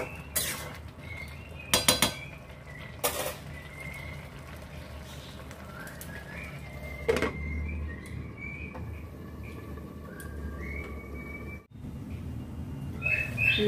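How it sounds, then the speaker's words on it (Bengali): A metal spoon clinks against a cooking pot while bottle gourd is stirred as it simmers. A few sharp clanks stand over a steady low cooking noise with faint chirps, and no one speaks. "মাঝে একবার ঢাকনা খুলে নাড়াচাড়া করে দিচ্ছি।"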